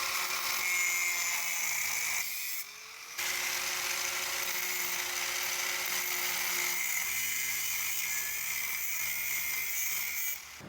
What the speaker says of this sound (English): first step is we've actually cut the end of the spark plug socket off